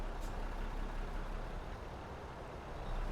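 A Mack R truck engine in American Truck Simulator rumbles steadily and fairly quietly for a few seconds, an even low drone that swells slightly at the end, with no talk over it.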